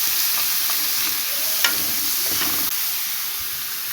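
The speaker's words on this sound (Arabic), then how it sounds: "غادي ندير التشكيله في الطاسه، نحركو البصل ديالنا" Onions frying in a pan and being stirred, a steady close sizzling hiss with a couple of soft scraping strokes and a light clink, no voices.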